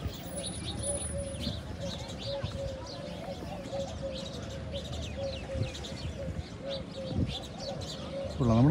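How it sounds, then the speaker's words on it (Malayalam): Birds chirp and doves coo outdoors at Love Lake in Dubai, with light, steady calls scattered over a continuous background hum for the whole stretch and a brief louder rustle near the end. "പക്ഷികളൊക്കെ അറിയുന്ന കേട്ടോ."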